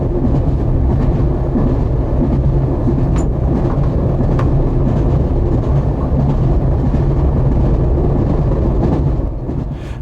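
A train runs along the Western Region main line through Grange Court Station beside the River Severn, a loud, steady rumble of wheels and carriages filling the whole stretch and easing slightly at the end.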